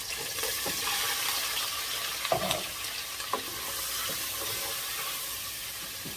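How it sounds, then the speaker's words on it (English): Shrimp fry in a pan while shrimp sauce is being made. A steady sizzle runs throughout, with occasional clinks and stirring scrapes close by. "when you're done, you're going to add your shrimp."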